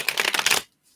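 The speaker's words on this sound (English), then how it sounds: "Just going to shuffle these up here." A deck of tarot cards is riffled briskly for just over half a second, a crisp, close fluttering burst that stops abruptly into near silence.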